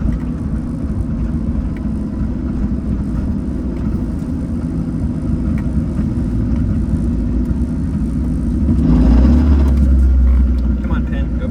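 A turbocharged K20-swapped Honda Civic of about 450 wheel horsepower accelerates in second gear. Its engine gives a loud, continuous rumbling drone heard from inside the car, swelling heavier and deeper near the end.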